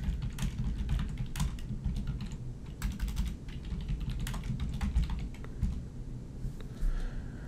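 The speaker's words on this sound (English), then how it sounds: "So I'll type that in." Typing on a computer keyboard, a quick irregular run of close, crisp key clicks over a low background hum.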